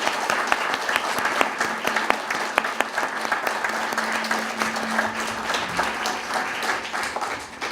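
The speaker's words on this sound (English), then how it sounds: "let's give it a big round of applause for its 10th anniversary" Audience at an anniversary celebration breaking into sustained applause, dense clapping from many hands that carries steadily for several seconds before tapering off near the end.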